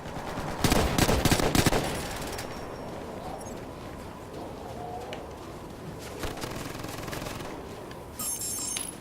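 Gunfire in the video game Ghost Recon: Future Soldier, a loud rapid burst of automatic shots near the start, then scattered lighter shots and a short final burst over a low background.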